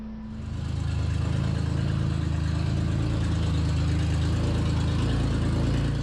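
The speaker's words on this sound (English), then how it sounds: "Supercharged engine sounds." A supercharged engine in a 1958 Ford Thames micro van starts up and settles into a loud, steady idle with a deep, even rumble, running alone without any talk.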